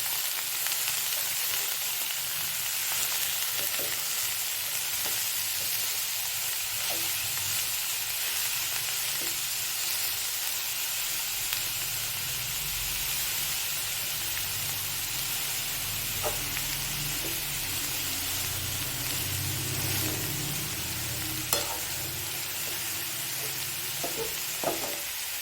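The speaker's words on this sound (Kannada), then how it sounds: "ಇದನ್ನು ಚೆನ್ನಾಗಿ ಮಿಕ್ಸ್ ಮಾಡಿ." Amaranth leaves palya frying in a pan, a steady soft sizzle with occasional scrapes and clinks of a spoon stirring, close and continuous with no talking.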